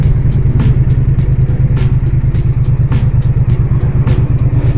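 A Triumph motorcycle rides on the Paris ring road in winter, its engine giving a loud continuous low throb with a fast pulsing beat, overlaid by wind rush and scattered ticks and rattles.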